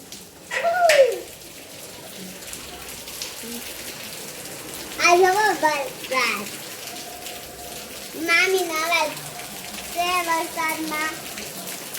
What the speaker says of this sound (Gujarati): વરસાદ આવે છે પણ શરૂ થઈ ગયો છે પાછો વરસાદ